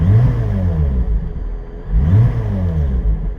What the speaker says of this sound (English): you can see if I dab the throttle